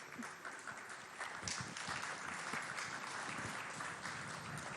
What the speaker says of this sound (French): Les applaudissements sont timides.